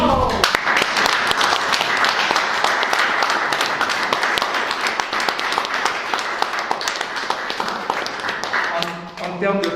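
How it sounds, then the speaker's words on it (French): Applause at a yoga festival in Europe, a dense, loud burst of many hands clapping close by, sustained for several seconds before thinning out at the end, with some voices mixed in. "Applaudis."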